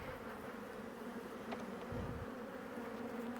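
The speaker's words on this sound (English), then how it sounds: "some grumpy bees." Agitated honey bees swarm around an opened hive in fall, their steady buzzing hum filling the space close by, with a soft thump or knock partway through and no talk.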